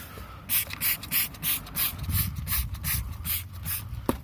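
Super Clean foaming degreaser sprayed onto an engine near the alternator: about a dozen short, loud, hissing trigger bursts in an uneven rhythm, close by with no talk.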